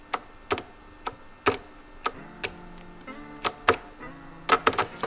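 A faulty fuel pump on a BMW K100 motorcycle clicks sharply at irregular intervals, about a dozen close, distinct ticks with a faint hum between them.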